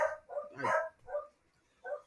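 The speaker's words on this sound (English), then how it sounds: "Now suddenly they can't keep their mouth shut." Several dogs bark in short, sharp bursts at close range, with quiet pauses between the barks.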